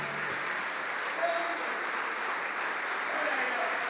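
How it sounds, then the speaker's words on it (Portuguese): Church congregation applauding during a worship service, a steady dense wash of clapping that holds evenly throughout at moderate distance, with no clear gaps. "Vamos aplaudir ao Senhor."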